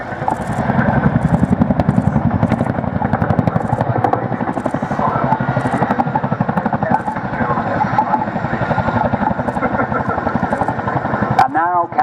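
An RAF Chinook helicopter at the RAF Cosford Airshow roars through a rapid handbrake-turn deceleration, its heavy rhythmic twin-rotor thudding loud and steady, with a commentator talking over it.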